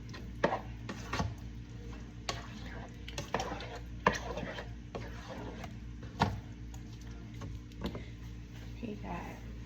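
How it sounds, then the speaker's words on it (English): Quiet scraping and clinking of a spoon stirring mostaccioli sauce with Sweet Baby Ray's in a metal pot, several soft irregular scrapes and taps over a steady low kitchen hum. "Give that a stir."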